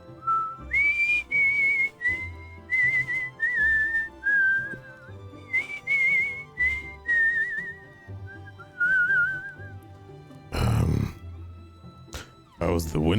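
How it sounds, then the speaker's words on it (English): A woman whistles a melody to herself while working on a window, the clear tune running in short phrases close by, followed by a couple of brief louder knocks near the end. "is whistling just to herself as she's working on the window"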